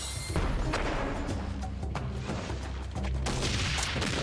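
Bone cannons fire in the Auto Pirates video game battle, a dense barrage of booming shots and thuds layered into loud continuous combat noise that never lets up.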